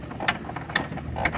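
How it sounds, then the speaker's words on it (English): A TV mount mechanism is tightened by hand, giving three quick, close ratcheting clicks evenly spaced over a low background hum. "And then all you do is you just tighten it up."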